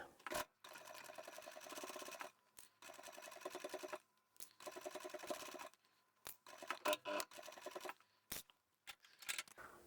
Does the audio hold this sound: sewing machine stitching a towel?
yes